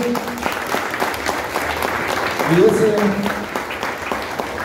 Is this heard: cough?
no